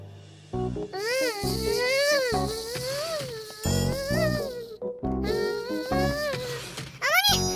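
A voice imitates a fly buzzing in a Fixiki cartoon game, giving a wavering, sung buzz in several long bursts with sliding pitch and short breaks between them.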